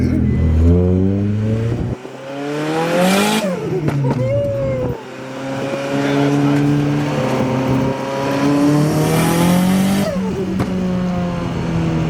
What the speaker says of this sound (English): Gonna go do a test drive, make sure everything's good, and then I think it's time for Agent to enjoy this car.